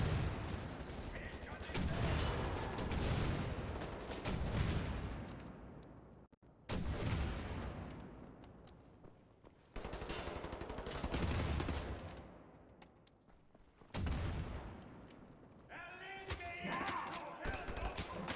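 Rockets and gunfire from the shooter game Wolfenstein The New Order go off in loud bursts separated by brief lulls, with several heavy blasts and some rapid firing.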